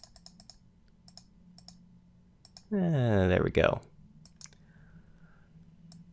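A computer mouse gives several quick, light clicks in separate bursts near the mic, broken by a louder tonal computer sound effect in the middle, and a voice speaks briefly.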